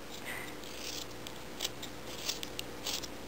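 Scissors make a few short, crisp snips, spaced irregularly over about two seconds against a faint steady background hum.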